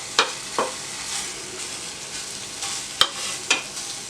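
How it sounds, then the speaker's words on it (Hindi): Homemade khoya with ghee frying in a hot pan, a soft steady sizzle punctuated by several sharp spatula scrapes and taps, no talk. "आप गरम पैन में खोया डालें।"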